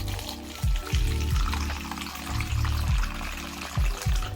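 Water is poured into vermiculite in an egg incubation box, a soft trickling and splashing with repeated low gurgling pulses, fairly quiet and close.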